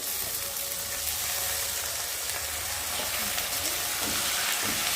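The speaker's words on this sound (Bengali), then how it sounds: "এখন এর মধ্যে আমি আলুগুলোকে দিয়ে পেঁয়াজের মধ্যে ভালো করে ভেজে নেবো" Potatoes frying with onions in a wok give off a continuous close sizzle, with occasional stirring clatter and no talk over it.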